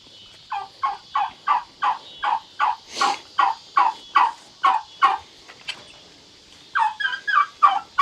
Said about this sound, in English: He just gobbled, finally.